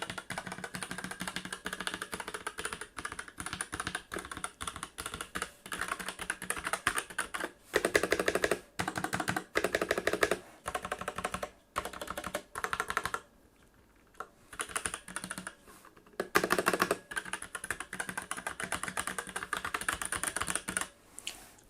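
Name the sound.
typing on Surefire Kingpin M2 mechanical keyboard, red linear switches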